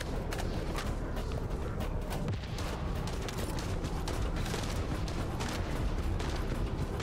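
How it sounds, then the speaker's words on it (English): Dense, continuous barrage of booming explosions and sharp blasts, overlapping one another with a constant rumbling roar underneath. "What's the radius on these explosions, man?"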